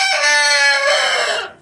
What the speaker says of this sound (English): I have chicken friends with their little buffet.